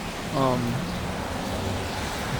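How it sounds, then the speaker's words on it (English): Steady rain makes a soft, continuous hiss throughout, with a brief voice sounding near the start. "Looks like the rain is slowing down."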